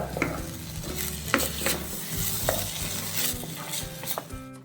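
Ketchup stirred and sautéed in a hot pan while cooking egg chilli, a steady close sizzle with scraping spoon strokes and occasional clinks against the pan.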